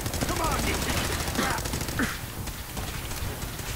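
Gunfire in the video game Fallout 4: a rapid, dense rattle of automatic shots runs through the whole stretch, loud and continuous, with faint voice-like sounds mixed in.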